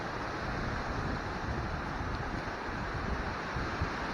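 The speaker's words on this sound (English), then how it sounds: "now it's getting really windy" Strong wind during a rain storm in North West Florida roars as steady, dense broadband noise with gusty buffeting, loud and close, with no voices.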